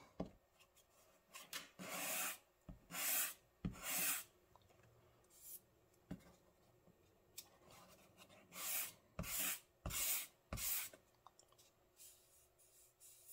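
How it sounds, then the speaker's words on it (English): Bursts of a sanding block rubbing back and forth on wooden model rocket fins, close and crisp, with brief quiet gaps between sets of strokes. "we'll use a sanding block"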